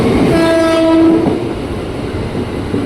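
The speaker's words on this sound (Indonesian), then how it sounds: "Nah, ini dia nih, komuter tujuan Cikarang, JRS 2584. Rangkaiannya 12 kereta ya." A twelve-car KRL commuter train bound for Cikarang pulls into Bekasi station, its horn sounding a sustained tonal blast that then cuts off, leaving the rumble and clatter of the rolling carriages, loud and close.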